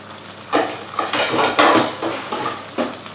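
Metal lid set onto a pot of mussels cooking with Roquefort, giving several close, clattering knocks and scrapes of metal cookware over a few seconds.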